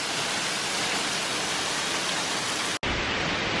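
Nandroya Falls, a waterfall in Queensland, Australia, roars as a steady, dense rush of falling water, loud and continuous, with a brief cut near the end.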